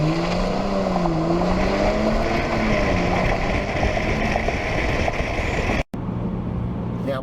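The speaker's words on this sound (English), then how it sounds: "A full throttle acceleration when this road clears." A Jaguar XF S Sportbrake under full-throttle acceleration from 0 to 70, its engine note climbing steadily and loud with a steady road roar. The sound cuts out abruptly near the end, then a quieter drone resumes.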